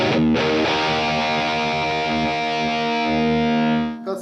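A heavily distorted electric guitar rings out a sustained chord through an amp-simulator preset in BIAS FX or AmpliTube, holding for a few seconds before being cut off.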